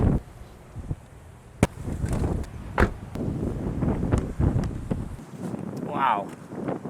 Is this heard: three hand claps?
no